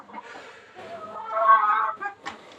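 Chickens clucking close by, a busy murmur of hen calls rising briefly louder before settling, in a coop where the hens' perch has collapsed.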